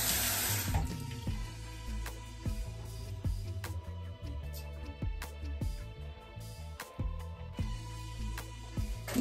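Tap water runs steadily into a sink during face washing, a continuous splashing flow with scattered clinks and knocks over it.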